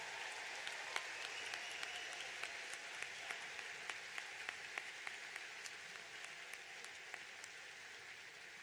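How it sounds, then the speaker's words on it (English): A commencement crowd gives steady applause for a chamber choir, the clapping even and continuous throughout and heard from a moderate distance. "please join me in one more round of applause for our chamber choir for providing fabulous music today."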